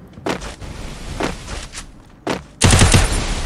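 Several sharp gunshot bursts in a video game crack out in short clusters, ending in a louder sustained volley of rapid fire, with no voices.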